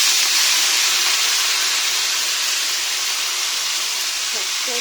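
Greens dropped into a hot pan with fried onion and garlic give a loud, steady broadband sizzle and hiss that holds unbroken for the whole stretch, close to the microphone.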